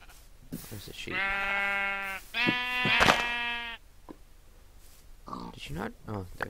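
Two drawn-out, harmonic bleats from a Minecraft sheep sound close and loud one after another, with short game clicks and a brief bleat or voice fragment after them.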